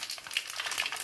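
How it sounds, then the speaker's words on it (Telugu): Broad beans sizzle with cumin in a pan, a brief, soft, crackling fry with light spattering close by. "మంచిగా ఫ్రై చేసుకోవాలి."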